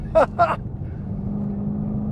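A 2013 Chevrolet Camaro SS 1LE's engine gives a steady, low, droning rumble heard from inside the cabin, with two brief voice bursts at the start.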